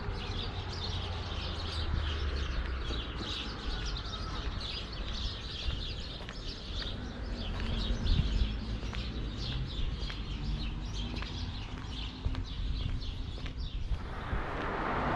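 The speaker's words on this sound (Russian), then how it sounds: "Поют птички как." Small birds chirp and tweet repeatedly outdoors in a seaside town, steady scattered calls at moderate distance over a continuous background hum of street ambience.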